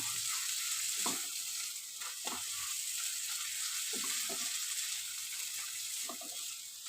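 Spice masala frying in a pan, a soft, steady background sizzle broken by a few light stirring scrapes and taps, fairly quiet throughout.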